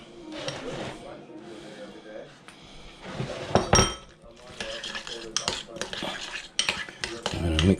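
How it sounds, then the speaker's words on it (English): Spoon and utensils scrape and clink against a pan as avocado and other brunch ingredients are stirred together, with irregular, close metallic knocks while a voice talks over the mixing. "I'm going to mix all that in."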